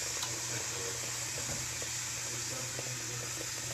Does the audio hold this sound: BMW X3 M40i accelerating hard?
no